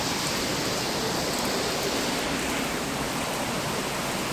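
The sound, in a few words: rain falling outdoors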